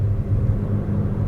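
A McLaren Artura running on electric power alone along a Malaysian highway, with a steady low rumble of tyres on the road and the wash of passing traffic, and no engine note.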